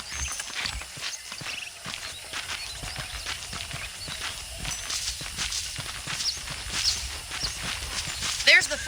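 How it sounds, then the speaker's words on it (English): A horse's hooves clip-clop in steady walking rhythm in the Red Dead Redemption video game. The footfalls are close and moderately loud and run throughout under quiet game ambience. "The horses are saddled up over here."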